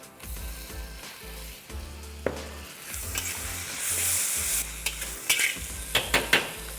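Tomato and spices fry in a pan for ghugni, a dried pea curry, giving off a continuous sizzle as a spoon stirs and clinks against the pan. Quick scraping bursts build toward the end over a low steady hum, and nobody speaks.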